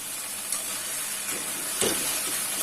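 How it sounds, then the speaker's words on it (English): Half-cooked okra (bhindi) in a frying pan with the heat just turned off, a soft hissing sizzle with a few spatula scrapes and taps as it gets stirred, no voices. "I will give it a stir"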